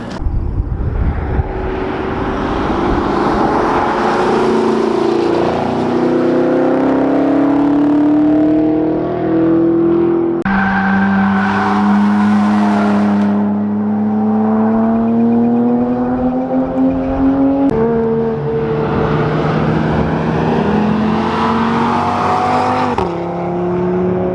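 Several race cars roar past one after another on a sunny day, engines revving up and shifting with rising and falling pitch, loud and continuous with no talk.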